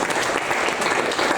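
An audience applauds at an awards event, a steady dense patter of clapping that lasts the whole short stretch with no talking over it.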